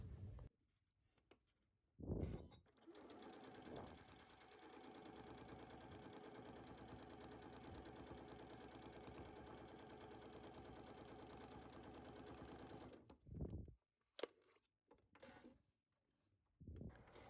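A sewing machine stitches a 5/8-inch seam through fabric placed right sides together, running as one steady, close whir for about ten seconds, with brief handling bumps before it starts and after it stops.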